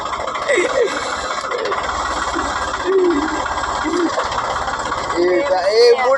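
A tractor engine runs with a continuous low, rumbling drone, with voices heard over it in the background.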